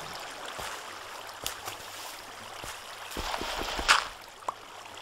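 Water is pumped and drained out in Minecraft, a soft continuous watery trickle with gurgling, plus a few louder splashy surges near the end.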